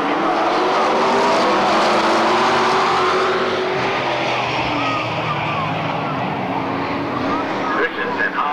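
Vintage NASCAR stock car engines roar loudly and continuously as a pack of cars passes side by side out of a turn at Ascot Park, with an announcer talking over the noise.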